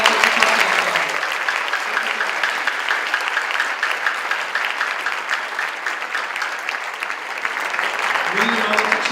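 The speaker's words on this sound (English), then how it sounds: "One more big round of applause for the very talented percussion ensemble." A concert audience applauds a school percussion ensemble at a winter concert, a broad, steady wash of clapping lasting several seconds with faint voices underneath.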